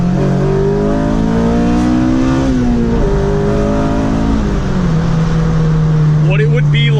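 Honda Civic FG2 engine revving hard from close by, its tone climbing and dropping through several pulls, then settling into a steady drone before another rise at the end.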